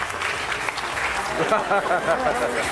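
A theatre audience at a pickpocket stage show breaks into loud, steady applause, with a performer's voice talking over the clapping in the second half.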